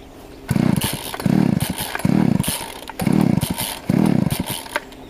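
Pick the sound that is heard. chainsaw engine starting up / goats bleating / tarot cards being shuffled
chainsaw engine starting up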